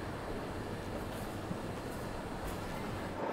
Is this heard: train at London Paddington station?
yes